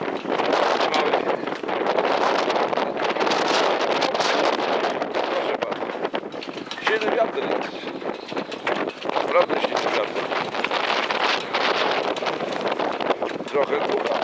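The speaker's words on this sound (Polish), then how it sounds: "Trochę wieje, nie?" Steady gusting wind buffets the microphone at a sailing regatta in Puck, Poland, a broad continuous roar with surging rushes and no clear voices.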